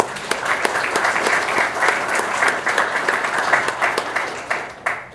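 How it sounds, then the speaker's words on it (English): Guests at a retirement ceremony applaud the honoree's family, a loud, full round of clapping from a crowd with sharp individual claps standing out before it tapers off. "A round of applause for the family"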